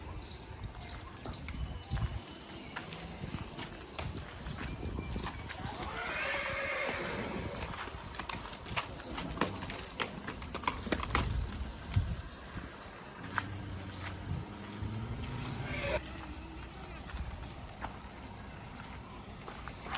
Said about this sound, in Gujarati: તો મિત્રો ઘોડાને કાઢે બહાર.